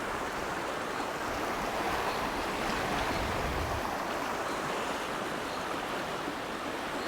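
Fast-flowing, very clear river water rushing steadily in a broad, continuous roar, close and unbroken throughout with no voices.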